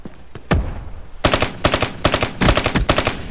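Rapid bursts of XR2 rifle fire in Black Ops 3, several loud close volleys of quick shots following a few isolated single shots.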